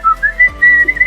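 A melodic whistled line in a Danish Melodi Grand Prix 2023 song, clear and close, gliding between a few sustained notes over soft backing music.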